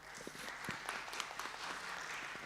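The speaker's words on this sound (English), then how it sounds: "Give applause." An audience at a youth summit breaks into steady applause, many hands clapping together at moderate volume for a couple of seconds.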